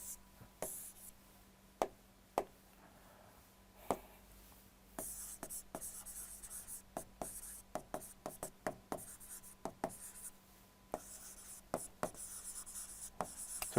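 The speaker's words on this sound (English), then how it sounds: "So, let me write it here." Chalk or marker tapping and scraping on a board during a science class on digestion, short irregular strokes and taps clustered across the clip, fairly close and clear with a faint steady hum behind.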